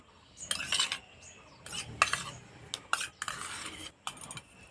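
A spoon stirs a semolina, egg and yogurt batter in a bowl, making short bursts of scraping and light clinks against the dish, quiet and close, with brief pauses between strokes.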